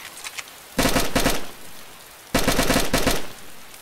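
AK rifle fire in the video game DayZ comes as two loud, close automatic bursts of rapid shots, each under a second long, separated by a short pause.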